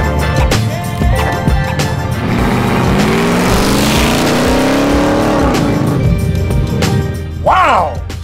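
A 2004 Ford Lightning pickup's engine revs and roars through a rumbling old muffler exhaust, rising and falling in pitch, with a brief high squeal near the end.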